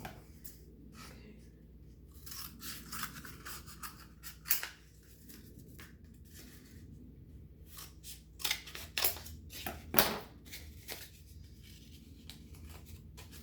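Scissors snip through a cardboard paper towel tube in a run of sharp, close cuts with brief pauses and rustling handling between them, no talking.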